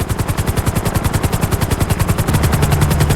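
Helicopter in the video game GTA, with a loud, close, rapid rotor chop pulsing evenly and without a break, and an engine drone rising slightly near the end.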